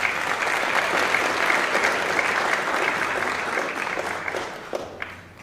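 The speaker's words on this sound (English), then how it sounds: "Let's give them another round of applause." Steady applause from an audience at a school Founders Day celebration, honoring a quartet that just performed; dense, sustained clapping throughout that thins slightly near the end.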